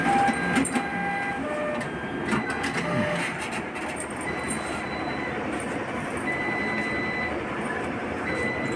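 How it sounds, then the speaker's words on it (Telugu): A bank cash recycler machine initializes and checks its modules, giving off steady mechanical whirring with clicks and short high-pitched motor whines. Nobody speaks. "మిషన్ అంతా ఒకసారి ఇన్సులైజ్ అవుతుంది"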